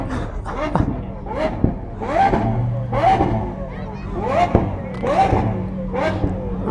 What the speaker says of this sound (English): I should have known that they're gonna start revving